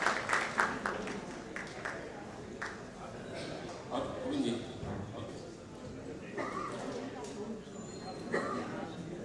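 Audience applause at a book launch and mushaira evening, a burst of clapping from a seated crowd that rises and fades in waves, with voices talking over it.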